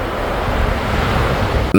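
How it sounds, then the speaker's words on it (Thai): Sea waves wash steadily onto the sand at Hat Chao Samran beach in Phetchaburi, a continuous broadband surf roar with some wind noise, loud and unbroken, ending in a brief disturbance at the very end. "นี่ลุงอยู่ที่หาดเจ้าสำราญทะเลที่นี่เงียบสงบดี"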